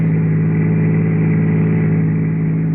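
A car drives out along the Pacific Palisades, its engine giving a steady, loud, low droning hum from inside the cabin. The tone holds constant throughout with no voices.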